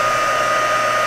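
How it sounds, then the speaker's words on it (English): A heat gun melts embossing powder in a craft session, blowing a loud, steady, uniform rush of hot air at close range with no other sounds. "now I'm going to heat up the embossing powder"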